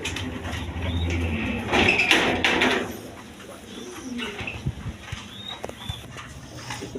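A pair of Gorra pigeons at a breeding farm give soft throaty coos, near but fairly quiet, with a louder rustling thud in the first seconds and a few thin chirps.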